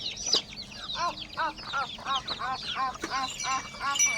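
Chickens cluck repeatedly in a rapid, steady series on a farm, close and clear, with a sharp squawk near the start.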